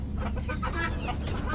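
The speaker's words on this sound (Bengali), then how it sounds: "এখানে আমার আরেকটা মুরগি," A hen clucks in short, close, busy calls over a constant low background rumble, brief and fairly loud.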